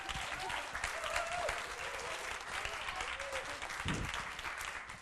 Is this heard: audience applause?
yes